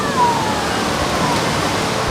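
Looking Glass Waterfall in Pisgah National Forest gives a steady, broadband rush of falling water, close and continuous without any break, with a faint tonal whistle near the start.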